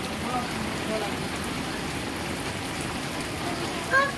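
Heavy monsoon rain pouring down in a village, a steady close hiss of drops on surfaces that stays even throughout, with a brief louder rustle near the end.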